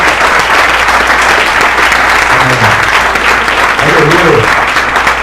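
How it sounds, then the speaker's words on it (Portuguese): A church congregation at a Sunday service applauds steadily and loudly throughout, a dense wash of clapping with a few voices calling out near the end. "Aplauda com toda a força."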